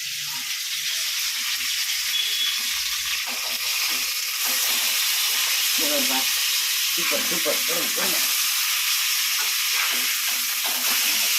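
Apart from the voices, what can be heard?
fish frying in oil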